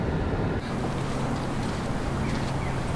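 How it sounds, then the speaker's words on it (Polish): A boat motor drones steadily with a low rumble as it gains revs, mixed with wind buffeting the microphone and water noise, continuous throughout, on the Warta river at Sieradz. "Lubię pracę motoru. Silnika, jak nabiera obrotów."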